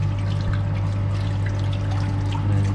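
Water from a pump runs through the pipes of a fluid friction apparatus, a continuous trickling, pouring flow over a steady low motor hum, with no talk.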